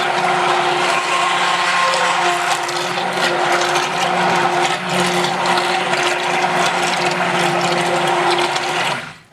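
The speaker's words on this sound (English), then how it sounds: "So we'll start with our stick blender." Stick blender mixing oils for handmade cold process soap, a steady whirring motor hum with a grinding, churning texture running continuously and close until it cuts off at the end.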